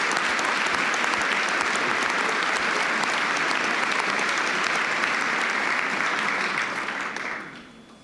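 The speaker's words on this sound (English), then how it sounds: "I wonder if we can give a big round of applause to them as well" Sustained audience applause at a school valedictory ceremony, many hands clapping in a dense, even roar that holds steady before fading out near the end.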